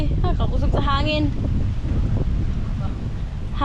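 Strong wind buffets the microphone as a steady roar during a rainy boat trip to Tinagong Dagat in Sipalay City, Philippines, while people talk over it nearby.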